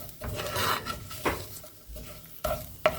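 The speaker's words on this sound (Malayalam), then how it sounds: "നല്ലപോലെ ഒന്ന് ഇളക്കി കൊടുക്കാം." A spoon stirs fish curry masala in a hot pan, producing short scraping strokes and a light sizzle in a few close bursts, with small clinks near the end.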